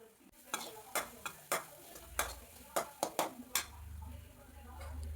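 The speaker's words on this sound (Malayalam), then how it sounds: "1 മിനിറ്റ് നേരം ഒന്ന് വഴറ്റാം" Turmeric powder sautéing in oil in a pan for a Kerala-style banana flower and green gram thoran, heard as a quiet run of sharp spatula taps and scrapes over a soft low rumble.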